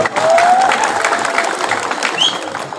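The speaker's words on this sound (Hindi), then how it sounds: "ताली मत मारो, ये आपका ही पैसा है" An audience at a public gathering, where a donation was announced, bursts into loud, dense applause. The clapping is strongest at the start and then thins out slowly.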